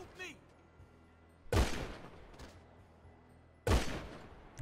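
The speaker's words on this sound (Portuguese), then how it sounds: "Essa arma é muito barulhenta" Two loud, booming gunshots in the video game GTA 5, spaced about two seconds apart, each ringing out with a long echoing tail. Faint background noise and a few brief sounds fill the gaps.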